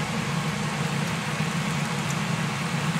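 A kitchen vent hood fan gives a steady, broad whooshing drone with a low hum underneath, constant and unbroken throughout, fairly close and no voices.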